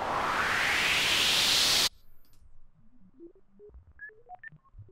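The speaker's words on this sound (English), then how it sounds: "we've now got like a more computer sounding noise" A burst of loud hiss cuts off abruptly, followed by a sparse sequence of short, pure sine-wave tones from the Serum synthesizer stepping up and down in pitch.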